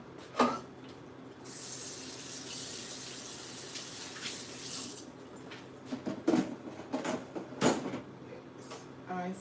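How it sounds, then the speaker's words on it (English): Water runs and splashes into a pan while green plantain is cooked on a stove, a faint continuous hiss with intermittent clatters and knocks of kitchen utensils, with a bit of quiet talk. "I'm gonna put some water with this."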